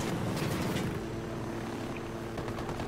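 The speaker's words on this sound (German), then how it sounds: "Da kommt ein Heli." A helicopter in Ghost Recon Wildlands gives a steady, low rotor drone. The thrum is fairly faint and constant, as if from a distance.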